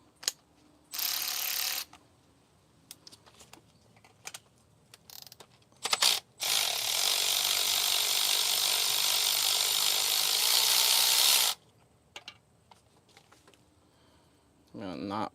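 Ratchet wrench with a socket clicking during an engine valve adjustment on a high-mileage engine, two long loud continuous ratcheting runs separated by scattered metallic clicks and handling noises, close up.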